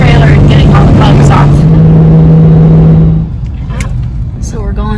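An RV towing a trailer rolls through a small downtown on rain-wet roads, a loud steady engine drone and tire hiss fading out partway, with faint sounds following.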